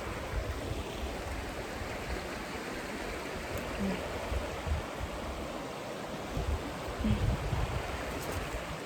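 Steady rushing water of a creek flowing nearby, a constant broadband wash with small splashes and no voices.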